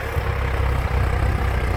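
A Massey Ferguson 4707 three-cylinder tractor with a front dozer blade runs steadily nearby, its low diesel engine rumble continuous and even, with no voices.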